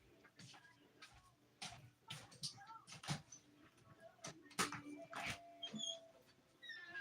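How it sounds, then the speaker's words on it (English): A dog barking at night in a quiet outdoor setting where coyotes roam, a few faint, scattered barks at a distance over low background noise. "That was a dog, but the first one was coyote."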